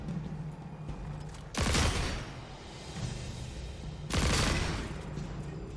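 Two loud bursts of rapid gunfire aimed at a target in Destiny 2, each lasting under a second and separated by a few seconds of low game ambience.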